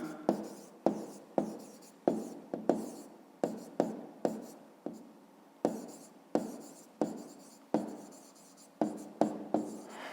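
Pen strokes scratching on paper while a fifth-grade math exercise on rectangle area is written out by hand: close, crisp bursts of writing in an irregular rhythm, with short pauses between strokes and no talking.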